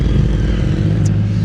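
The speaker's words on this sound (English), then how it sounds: "Hold on, we have some motorbikes here." Motorbikes pass along a road in the south of France, a loud, steady engine rumble close by, with no talk over it.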